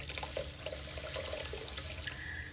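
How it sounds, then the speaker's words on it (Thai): Plain water pouring into a pot of cooked minced pork to make soup for shrimp wonton tom yum, a brief, steady, fairly faint splashing pour heard alone. "จากนั้นเราก็จะเติมน้ำเปล่าเพิ่มเข้าไปให้เขากลายเป็นน้ำซุปนะ"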